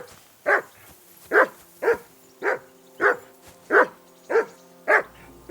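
A dog barks repeatedly in Kingdom Come Deliverance 2, about eight loud, evenly spaced barks roughly every half second to second, with faint game ambience underneath.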